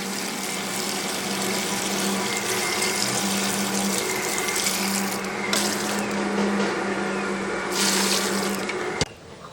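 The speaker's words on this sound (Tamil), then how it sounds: "இப்போ இந்த அவியலுக்கு தேவையான அளவு தண்ணி ஊற்றிக்கலாம்" Water pours steadily into a cooking pot for aviyal, a continuous splashing rush that shifts in tone as it fills, ending with a sharp clatter.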